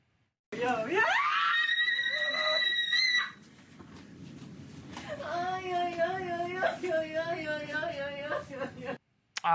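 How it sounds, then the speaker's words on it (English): A loud, high-pitched scream of joy rises and holds for a few seconds as a freed hostage hugs his mother, then gives way to wavering, sobbing cries and whimpers, close and intense. "Screams and tears of joy as Edan Alexander hugs his mother for the first time in 19 months."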